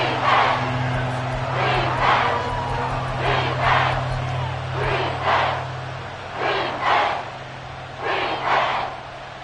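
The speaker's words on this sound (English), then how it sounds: "This crowd turning up the decibel level." A stadium crowd roars at a football game, a loud continuous wall of noise with repeated swells of shouting rising and falling over a steady low hum.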